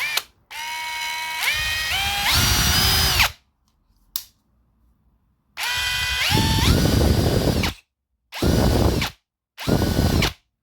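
A Parkside PPAGHS 20 LI A1 cordless hammer drill whirs in several bursts, its motor rising in pitch then cutting off, its faulty automatic brake adding a ratcheting grind to the longer runs, silent gaps between.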